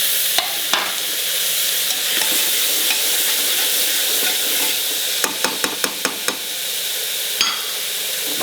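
Chopped ripe tomatoes fry in a pan for khichadi, a loud, steady close sizzle with a quick run of sharp spoon taps against the pan partway through.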